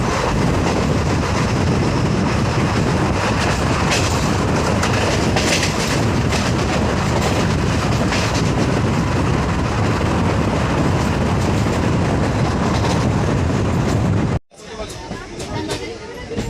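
A passenger train on the Parbhani–Jalna line in India rumbles loudly along the rails through a station without stopping, steady rolling noise and clatter, then the sound abruptly cuts and drops lower.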